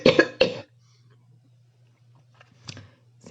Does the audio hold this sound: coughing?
yes